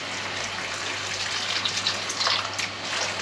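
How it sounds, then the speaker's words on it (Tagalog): A little water is poured into a cooking pan while pancit noodles are being made. The pour is a steady, close gushing splash that lasts the whole moment, with no talking. "Lagyan natin ng konting tubig ito para pagluto sa noodles"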